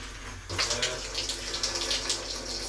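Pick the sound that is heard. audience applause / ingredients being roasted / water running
water running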